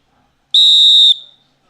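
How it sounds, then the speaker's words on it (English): A referee's whistle ends a submission grappling match with a single loud, sustained, shrill blast lasting about half a second, heard alone with only a faint trailing echo. "There's the whistle."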